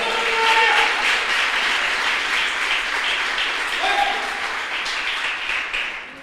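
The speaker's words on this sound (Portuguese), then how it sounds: "Você pode aplaudir o nome do Senhor." A church congregation applauds with broad, sustained clapping that swells early and slowly fades, with brief voices mixed faintly into the crowd noise.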